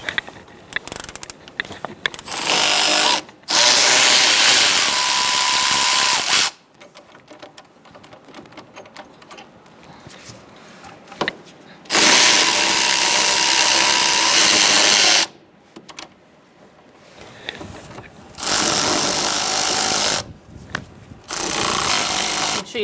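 Power tool bursts loosening the 17mm caliper bracket bolts on a 2014-2018 Subaru Forester during a front brake job, four loud sustained whirring runs separated by quieter pauses of handling noise.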